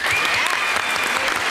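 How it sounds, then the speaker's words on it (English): A thick burst of studio audience applause for the returning champion on the 1973 Match Game TV game show, loud and continuous throughout, with a faint tone and some voices beneath the clapping. "how about a round of applause for our current champion here is Grady Ham"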